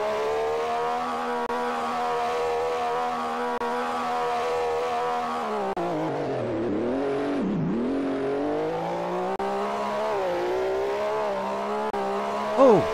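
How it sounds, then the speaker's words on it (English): A car in a Roblox racing game, without ABS assist, drives a lap with a steady engine drone that rises and falls through gear changes, dipping sharply at one point before climbing again, loud and continuous throughout. "Let's drive a lap in this car."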